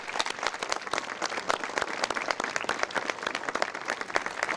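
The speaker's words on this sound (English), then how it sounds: "Let's give a round of applause to our facilities department" Sustained applause from a crowd at an outdoor high school graduation ceremony in Dover, steady dense clapping throughout with no talk over it.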